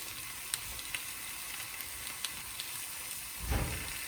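Fish for tacos frying in a pan, a faint steady sizzle with a few soft pops and a brief louder rustle near the end, no voices.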